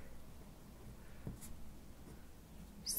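Pen or pencil strokes on paper while a number is written out during a circle geometry lesson, a soft, quiet scratching with one brief sharper stroke partway through, in a hushed room.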